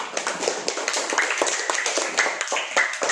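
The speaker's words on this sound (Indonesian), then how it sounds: "Tepuk tangan buat kita semuanya." In an Indonesian school lesson, a classroom of pupils claps together, producing close, sharp, slightly uneven hand claps in a quick rhythm for about three seconds.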